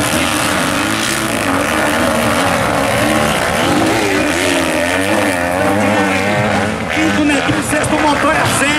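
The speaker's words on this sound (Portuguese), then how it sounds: "motos com até 450 cilindradas na pista" Motocross motorcycles up to 450cc roar and rev continuously at high pitch on a sand track during a race, with several bikes whining over one another, loud and steady throughout.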